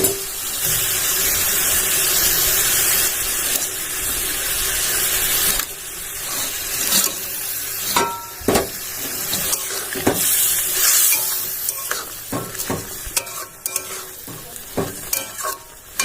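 Oil sizzles and spits in a pan as fish curry cooks, with scraping and clattering of stirring breaking through the steady frying hiss.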